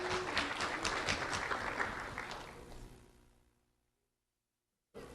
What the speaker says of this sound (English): Round of applause for Jesus Ortiz Olvera.